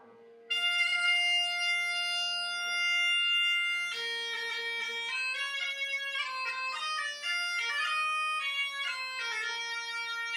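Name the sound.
Asturian bagpipe (gaita) accompanying a singer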